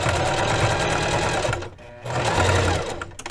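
Heavy-duty Singer sewing machine lock stitching cotton fabric: a close, loud, steady mechanical whir that cuts out briefly near the midpoint, then resumes at a similar pace for the rest of the clip.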